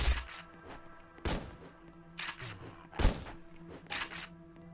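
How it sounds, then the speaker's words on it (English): Several sharp gunshot bangs from a Roblox video game go off at irregular intervals, each a short broadband crack with a brief tail, with no talking over them. "Wait, those are gunshots?"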